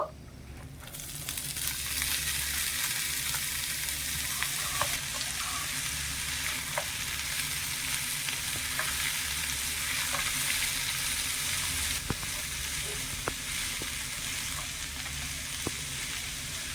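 Boiled raw papaya fried in a pan where cashews and raisins were just toasted gives a steady, fairly quiet sizzle throughout, with occasional faint ticks of stirring.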